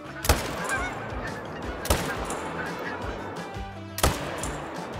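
Goose honking in a hunting video game, with three sharp shotgun-like blasts cutting through a steady layer of honks and flock noise, loud and close.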